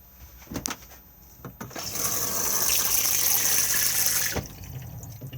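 Shower water runs inside an Elddis Envy 135 caravan, a steady hissing spray that starts after a couple of soft knocks, holds loudly for a few seconds, then cuts off abruptly.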